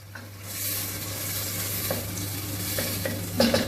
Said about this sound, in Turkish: Hadi kavrulsun soğanın yanına